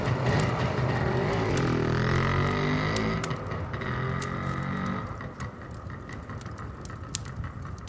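An old motorcycle with a wild boar strapped to its back rides off toward a village, its engine droning steadily close by and then fading as it pulls away, with no voices.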